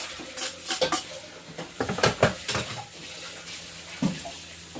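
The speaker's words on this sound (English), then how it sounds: "Now I'm going to go ahead and take and stir it in" A spoon stirring browned, seasoned, drained beef into cowboy beans in a stock pot, with clattering scrapes and knocks against the metal in irregular bursts, close and fairly loud, mixed with wet sloshing.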